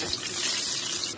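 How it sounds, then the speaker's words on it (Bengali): Boiled eggs coated in salt and turmeric fry in a pan with a steady, bright, close sizzle that holds evenly throughout. "ডিম ভাজা হয়ে গেছে, এখন উঠিয়ে নিব"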